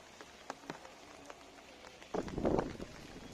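Rain falling around an open temple water tank, a soft steady patter that swells into a louder, denser burst of drops splashing nearby toward the end.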